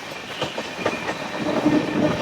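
Bengaluru–Tirupati Intercity Express train pulling into Bangarpet Junction, a steady rumble of rolling wheels and carriage noise with faint clicks and brief squeals building slightly louder toward the end.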